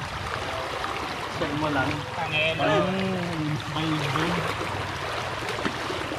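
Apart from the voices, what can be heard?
strong current of the Bitbit River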